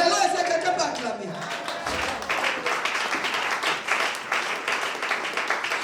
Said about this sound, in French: Alléluia, est-ce que quelqu'un peut acclamer?